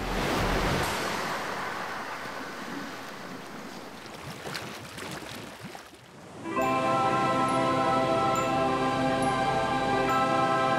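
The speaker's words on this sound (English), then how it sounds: "Known for having some of the most consistent surf in South Africa, Victoria Bay is a great training ground for any young surfer" Ocean surf at Victoria Bay, a small beach resort on South Africa's southern cape, rolls and hisses as broad wash, then gives way abruptly to a steadier, fuller roar of water and wind noise for the rest.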